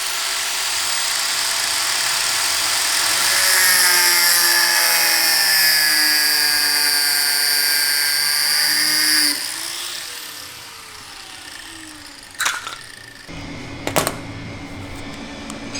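A power sander works on a carbon fiber sheet with a loud, steady high whine for about nine seconds before spinning down. A few sharp clunks and knocks follow in the quieter tail.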